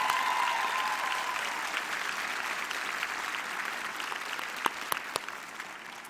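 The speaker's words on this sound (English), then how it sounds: "So let's give them another round of applause" Audience at a nursing pinning ceremony giving a round of applause, dense even clapping from a large crowd in a hall, steady and moderately distant, easing slightly toward the end.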